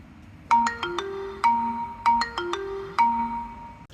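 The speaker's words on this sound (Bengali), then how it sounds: "কালকে রাতে আমার আম্মুর কল আসে, আর আমি রিসিভ করে ফেলি" A mobile phone rings with an incoming call, a bright electronic melody of clean tones repeating in short phrases, close and clear with nothing else heard.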